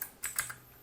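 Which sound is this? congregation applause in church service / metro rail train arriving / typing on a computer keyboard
typing on a computer keyboard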